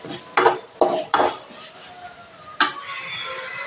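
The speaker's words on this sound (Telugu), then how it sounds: "ఆ రైస్ని వేసి కలుపుకోవాలి." Rice being stirred into tomato rice in a metal pot, with several sharp spoon scrapes and clanks against the pot followed by softer mixing and faint sizzling, close up and with no talking.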